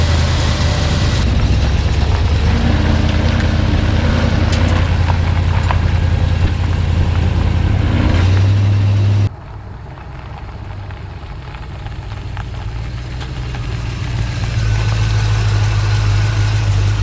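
A 1972 Chevrolet Chevelle SS with a 350 V8 idles roughly on a cold start, a loud, close, low rumble that drops in level partway through before building back up.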